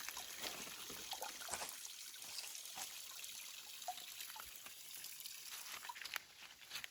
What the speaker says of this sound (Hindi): पहाड़ के ऊपर से पानी आ रहा है, यहाँ पे ये पाइप लगा दिए है पानी को असिस्ट करने के लिए